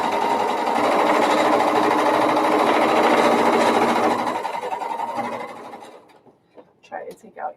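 An electric sewing machine runs fast and loud for about four seconds while back stitching a seam, then slows and stops, leaving a few faint clicks and handling noises.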